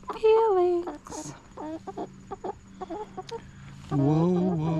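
Chickens cluck and murmur in a coop at night, with a nearer hen calling loudly at the start and again at the end and softer clucks scattered between.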